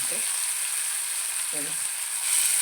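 Tomatoes dropping into hot oil with curry leaves for a village-style pithla: a loud, steady sizzle throughout, with two brief murmurs of talk.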